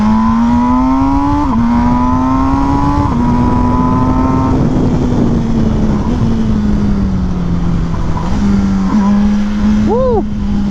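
MV Agusta Brutale motorcycle engine revving loud and close throughout, its pitch climbing and dropping through gear changes, with wind roar over the ride and a brief rising rev near the end.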